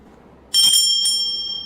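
A small blessed Catholic hand bell rings once with a bright, sharp strike, and its high metallic tone keeps ringing and slowly fades.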